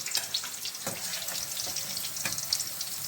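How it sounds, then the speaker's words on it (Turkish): Eggplant slices fry in a pan for a moussaka dinner, giving a steady crackling sizzle with scattered sharper pops, close by and without talk. "Hanımlar, patlıcanlarım kızardı."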